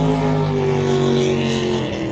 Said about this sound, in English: There's a jet boat going up and down the river,